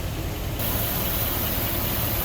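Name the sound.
1961 Cadillac Fleetwood Special engine idling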